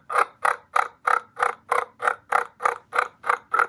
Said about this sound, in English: When a golden eagle is flying through a raven territory and the raven is chasing it, they will give a call that sounds like this.